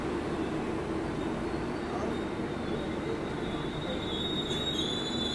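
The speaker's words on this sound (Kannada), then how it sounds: "ಈ ಟ್ರೈನ್ ಬಂದು ಹೊಳ್ಳಿ ಡಿಪಾರ್ಟ್ ಹೋಗ್ತಾವೆ ನೋಡ್ರಿ." An express train on the Bengaluru–Nanded route pulls into a station, its wheels squealing loudly in a steady high whine over a constant rumble of railcars throughout.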